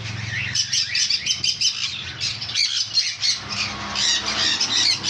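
Loud, shrill squawks and chirps from several sun conure parrots calling close by, overlapping in a busy, continuous chorus.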